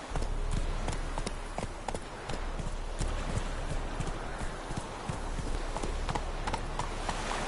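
Roach, a horse in the video game The Witcher 3, gallops in a steady, fast run of hoofbeats that continues throughout, loud and close over a constant background.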